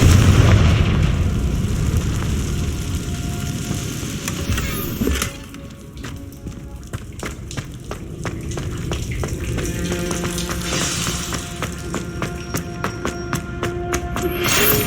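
A Confringo fire spell explodes in Hogwarts Legacy, starting with a loud booming blast and crackling burst that settle into sizzling, popping debris and scattered game effects with no talk.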